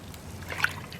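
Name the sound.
pouring Caribbean blue dye liquid for yarn dyeing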